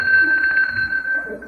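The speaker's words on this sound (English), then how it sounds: "if you want anything, just ring Aunt Miriam's bell" A small hand bell rings once with a clear sustained metallic tone that lingers and slowly decays, close and alone.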